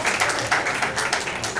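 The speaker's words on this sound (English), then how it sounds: "Give them a round of applause" Audience applause at a school book-launch event, a steady wash of many hands clapping close and fairly loud, continuous through the moment without a break.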